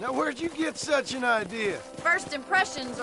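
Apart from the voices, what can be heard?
None of the usual background noises is heard.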